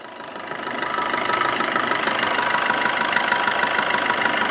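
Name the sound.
2018 Maruti Dzire diesel engine running at idle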